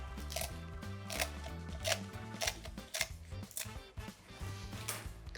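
Scissors make repeated sharp snips through a folded seaweed sheet, about a dozen quick cuts in uneven rhythm, over a quiet background with some music.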